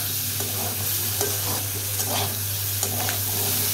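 Hilsa fish curry with taro and potatoes being sautéed in a pan, a steady sizzle with repeated stirring scrapes at an even pace, close and continuous with a low hum underneath.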